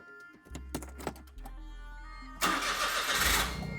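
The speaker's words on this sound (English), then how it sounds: "Start the car." A 2008 Smart Fortwo Passion engine cranks after a few clicks and catches, roaring to life and settling into a loud, steady run.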